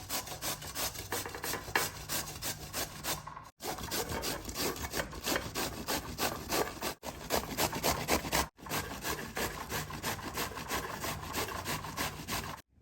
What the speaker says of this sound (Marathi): अर्धा दुधी भोपळा घेतला आहे हा आपण आता किसून घेऊया